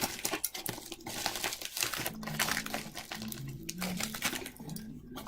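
Packaging crinkles and tears close up as it is pulled open during an unboxing, a busy, continuous rustle of plastic and paper with no talking.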